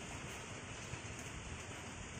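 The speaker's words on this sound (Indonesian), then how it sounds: "cuaca juga sudah mendung, sedikit gerimis" Light drizzle falls steadily under an overcast sky outdoors, a soft, even hiss of fine rain with no break, close and constant at low level and no voices.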